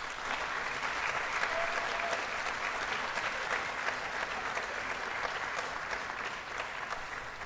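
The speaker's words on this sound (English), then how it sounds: "Let's give all of them a round of applause" An audience at a Windham Public Schools awards ceremony applauds steadily for the full stretch, a dense, even wash of many hands clapping in a large room, with a faint voice or two underneath.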